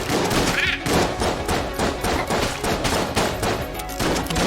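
Rapid gunfire from the video game Enter the Gungeon, including shotgun blasts, fills the clip as a dense, loud string of overlapping shots and bursts with no pause.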